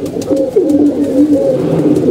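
Loud, close pigeons coo continuously in rolling, warbling phrases that overlap into a steady murmur.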